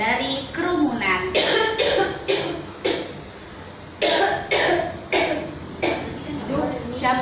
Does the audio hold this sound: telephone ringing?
no